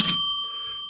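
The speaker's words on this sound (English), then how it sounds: "bring the bell." A single struck bell rings out as a sound-effect cue, its bright metallic tone landing sharply and then sustaining with a slowly fading shimmer.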